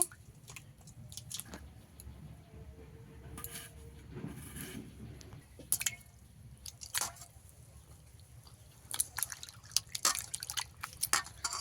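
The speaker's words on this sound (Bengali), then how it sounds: "আলুটা ভালো করে ধুয়ে নেব।" Long-cut potatoes are washed in water, with soft splashes, drips and handling clatter that come and go in bursts, quiet and close, with no voices.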